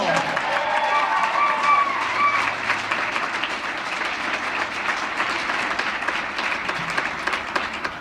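Sustained audience applause fills a room at an Emerge event, dense and steady throughout with some cheering mixed in, loud and close.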